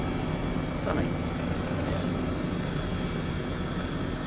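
A twin-engine propeller plane passing in Microsoft Flight Simulator 2020, heard as a steady low engine drone with a brief rising swell near the first second.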